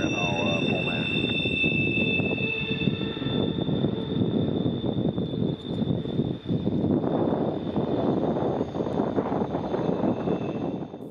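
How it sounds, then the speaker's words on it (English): A CSX intermodal freight train passes on a parallel line, a continuous rumbling roar with rattling wagons rising and falling over eleven seconds, mixed with a steady high whine. "daily intermodal train I-135 was passing as we pulled in"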